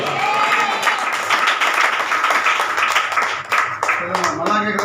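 Audience clapping at a Telugu church service, a dense, steady patter of many hands that runs for the whole stretch and is heard close.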